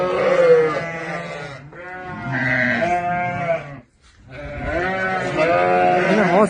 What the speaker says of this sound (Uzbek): Mana bu tug'gan qo'ylarning qo'rasi, hammasi bola.